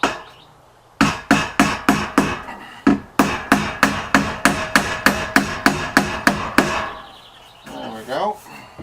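A hammer drives a roofing nail into metal trim on a shed door, about fifteen sharp rapid blows in quick rhythm with a brief pause partway, loud and close, followed by a short scrape.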